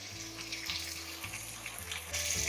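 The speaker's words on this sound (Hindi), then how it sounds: "और इसमें पानी शामिल कर देंगे आधी प्याली" Water poured into a handi pot of chicken chole simmering on medium heat, a steady running-water hiss with faint sizzling, brightening and growing louder near the end.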